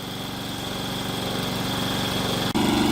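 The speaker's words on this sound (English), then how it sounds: "that lawnmower has been running now for about 15 minutes" A small lawn mower engine runs steadily after a dose of fresh gas and carb cleaner, a buzzing idle with a slight miss, then a brief dip before it picks up and runs a bit rougher and louder.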